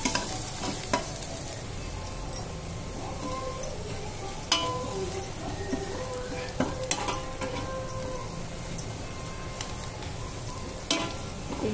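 Ginger garlic paste sizzles steadily in a pan, with repeated scraping stirs and occasional metallic clinks of a spoon against the pan, close and continuous throughout with no talking.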